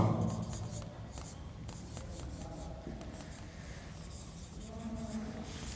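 Chalk or a marker scratches steadily across a classroom board as an equation is written, a series of close, quiet strokes and taps.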